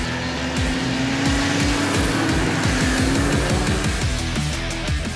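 A snowmobile engine drones steadily and loudly as it rides, its pitch rising and falling slightly, with no talking over it.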